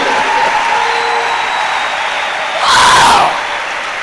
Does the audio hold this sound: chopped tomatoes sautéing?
no